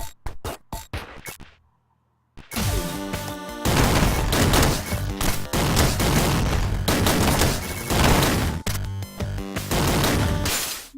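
Rapid bursts of gunfire from the pixel-art video game Downwell, a loud, dense run of shots and crashing impacts that fills most of the stretch after a short lull, with no talk over it.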